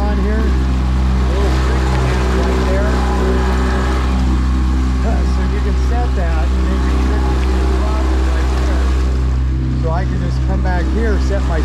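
A 19-foot Sea Chaser boat runs on its tiller-steered kicker outboard, a steady close engine drone with water noise, while someone talks throughout.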